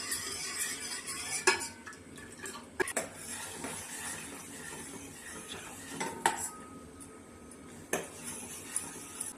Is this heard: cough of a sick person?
no